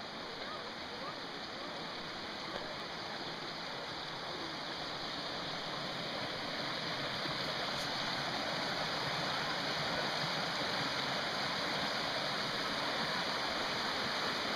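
A running stream of water on rural land, heard as a steady, close, unbroken rush and splash that holds the same level throughout.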